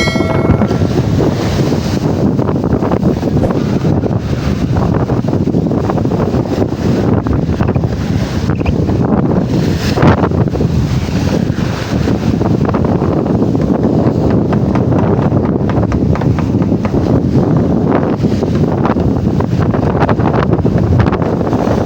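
Waves slam against a small boat out on the Pacific Ocean, a loud, continuous rush of water and spray mixed with heavy wind buffeting the microphone, with no talking.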